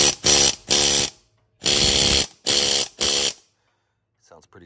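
A Harbor Freight Big Chief pneumatic needle scaler runs loud and close in five short bursts of harsh buzzing rattle with brief pauses, then falls silent apart from a faint trailing noise.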